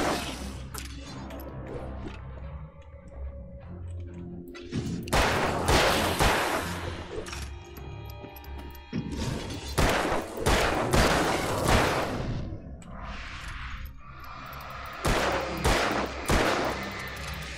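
Repeated bursts of gunfire from Alan Wake come in heavy clusters separated by brief pauses, loud and close, with little speech over them.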